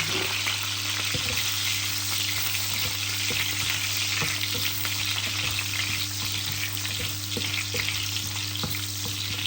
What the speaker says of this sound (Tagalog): magluto tayo dito ng sibuyas at saka bawang